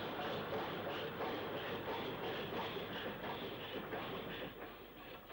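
A locomotive-hauled train climbs the bank near Kingswood Junction, a steady, loud rumble with rhythmic clatter of wheels on rail joints sustained throughout, no voices.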